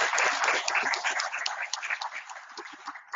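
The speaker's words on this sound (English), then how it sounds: "let's have a round of applause for Dr." Applause from a seminar audience in Toronto for a doctor and two students, a dense, muffled spread of clapping that holds steady and then thins out toward the end, heard alone.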